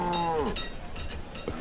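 A cow in the town-building game Banished gives a single drawn-out moo that slides downward, followed by faint farmyard ambience and a soft clank like a cowbell.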